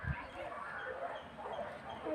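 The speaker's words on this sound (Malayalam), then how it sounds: "ഒരുപാട് പട്ടികളുണ്ടെന്ന് തോന്നുന്നു കേട്ടോ ഇവിടെ" Dogs give faint whimpers and yips at a place where many dogs seem to be around, heard quietly under people talking.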